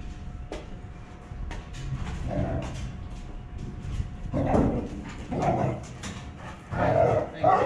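A dog barks in several short bursts at middle distance, with workshop clatter and bits of speech in the background around a welded shipping-container build.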